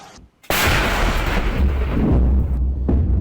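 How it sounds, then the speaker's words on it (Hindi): Explosions blow up military posts in Operation Sindoor footage: a sudden loud blast erupts after a brief quiet, then a sustained rumbling roar with crackling debris that persists and tails off. "ये आप देखिए, उसके बाद कैसे चौकियों को उड़ा दिया।"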